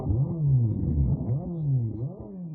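A supercar's loud, deep exhaust roars through repeated revs, the booming low note rising and falling in steady surges close up with no talk.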